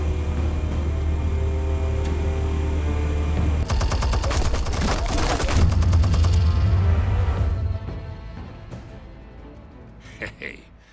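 Explosives and rapid gunfire erupt in a burst of loud, crackling blasts in the Batman The Telltale Series video game, following a steady low hum and then fading into quieter rumbling, with voices over it.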